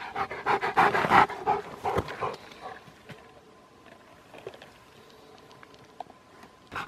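A pig-hunting dog pants heavily and rapidly up close, loud at first then easing off into quieter breathing with faint background noise.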